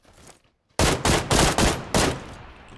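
Rapid automatic gunfire from the shooter game PUBG Lite, five loud bursts in quick succession after a brief near-silent pause, close and dominant with no voices over it.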